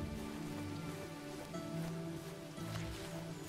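Steady rain falling across the woodland of the Robin Hood Sherwood survival game, a dense continuous patter with low rumbling tones and game music underneath, no talking.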